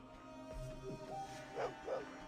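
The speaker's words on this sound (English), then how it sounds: "or is the barking just to confuse me?" A dog barks several times in the Fallout 2 video game, short muffled woofs spaced unevenly and heard faintly in the background.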